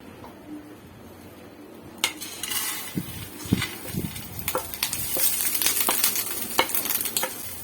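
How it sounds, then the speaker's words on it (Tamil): Coconut, fennel, pepper, cumin and coriander seeds dry-roasting in sesame oil in a pan for Chettinad chicken gravy, a close crackling sizzle under frequent sharp scrapes and clinks of a spoon against the pan, with no voices. "இது எல்லாத்தையும் நல்லா வறுத்துருங்க"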